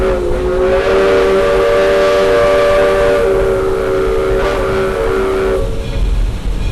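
A Roaring Camp steam locomotive sounds a sustained whistle as it climbs a hill, a loud held chord that carries for several seconds before cutting off, over the rumble of the moving train.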